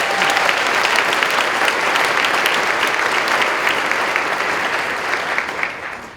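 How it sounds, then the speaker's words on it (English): Sustained applause from an audience at a university MLK celebration, a thick, even wash of clapping that holds steady for about six seconds before starting to fade. "So give them a round of applause."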